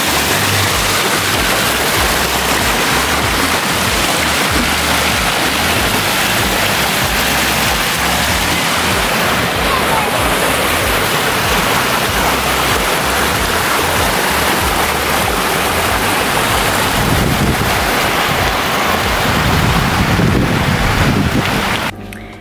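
Chlorinated water flows steadily around a university campus, a loud continuous rushing wash that holds without a break and cuts off at the end.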